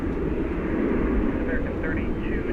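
Embraer E-Jet airliner taking off at night, a steady loud jet engine roar filling the whole stretch without a break.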